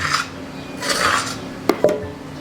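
A bench scraper scrapes and taps crumbly maraschino cherry and almond scone dough across a mat, soft rubbing swishes followed by two sharp clicks near the end.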